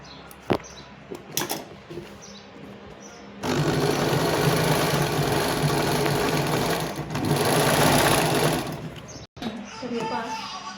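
Close sewing machine stitching a fall onto the hem of a saree, a loud steady motor whir lasting several seconds with a short pause, following earlier clicks and handling.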